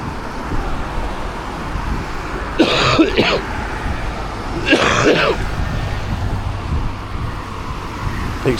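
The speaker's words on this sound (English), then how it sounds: "Excuse me, I've got a very bad cough." Two harsh chesty coughs from a man with a heavy cold ring out a couple of seconds apart outdoors on a walk, over steady road traffic noise.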